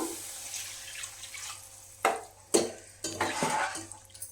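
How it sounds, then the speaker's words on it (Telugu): Water goes into a pan of frying gongura chicken curry, heard as quiet close splashing and pouring bursts with a few stirring knocks against the pan over a low background hiss. "బాగా ఫ్రై అయిపోయిందండి, వాటర్ వేసుకున్నాము."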